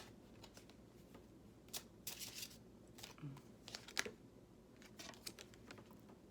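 Soft riffling and flicking of tarot cards being shuffled, with quiet scattered clicks and papery bursts, faint and close, no talking.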